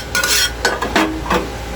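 Spices and aromatics sautéed in a hot pan while cooking canned sisig with tofu: loud scraping stir strokes over a steady sizzle, in close repeated bursts with no talking.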